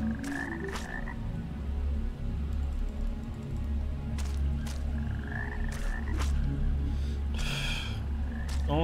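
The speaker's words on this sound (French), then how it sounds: "Ah, c'est le crapaud." A toad in the fantasy video game Arx Fatalis croaks repeatedly in low, rough bursts over a steady droning ambience, fairly close and prominent, with a few breathy sounds mixed in.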